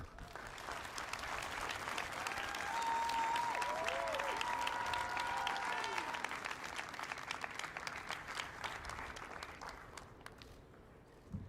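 Steady applause rises from a crowd at a Carnegie Mellon University commencement for the graduate speaker, swelling and then gradually thinning out, with some voices and cheers mixed in.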